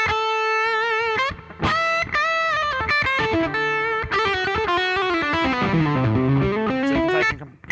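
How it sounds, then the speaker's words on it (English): Electric guitar played through a Boss WAZA Tube Amp Expander with reverb dialed in, ringing chords and single notes with a lush, spacious tail, close and loud throughout with no talking. "The first thing we can do is dial in some reverb."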